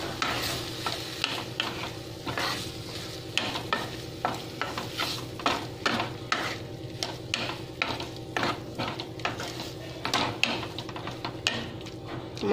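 A spatula rhythmically scrapes and clicks against a pan while stirring a tomato and egg fried rice mixture cooked without oil, with a soft sizzle beneath the repeated close strokes and no speech.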